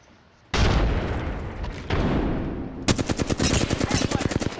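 Gunfire in an Apex Legends firefight: a loud close blast and a second burst, then a rapid rattling stream of automatic shots, with no voices.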